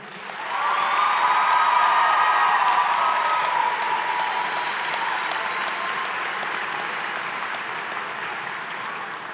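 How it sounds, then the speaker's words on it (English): An audience at the 2022 SAVA High School graduation ceremony bursts into loud, sustained applause, with dense clapping and a few cheers that hold steady for several seconds and ease off slightly. "So let's give a hand clap for her honor tonight"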